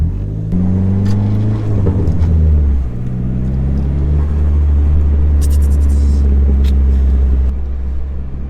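A car fitted with a Vibrant Ultra Quiet Resonator exhaust and new coilovers, heard from the cabin while driving, gives a loud, steady low engine drone that rises and dips as it shifts, with faint clicks above and no speech.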